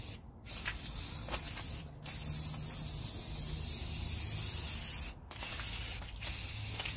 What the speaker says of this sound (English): So I have my white spray paint here in flat, and we're gonna finish off our black shells here.